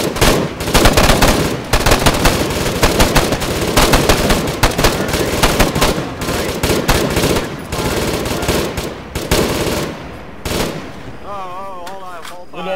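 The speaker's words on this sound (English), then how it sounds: "You're about to go fucking deaf when this MG3 fires off." An MG3 machine gun fires in Arma 3 during a military simulation night operation, with loud sustained automatic bursts and a dense layer of other gunfire that fades to quieter, sparser shots by the end.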